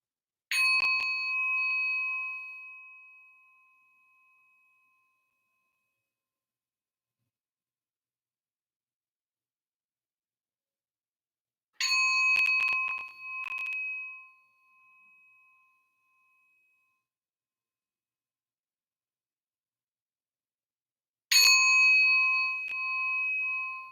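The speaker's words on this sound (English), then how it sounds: "Or just listen to the chimes." Meditation chimes ring in three separate strikes, each a bright metallic tone that hangs and slowly fades into silence before the next, spaced several seconds apart and heard alone with no talking.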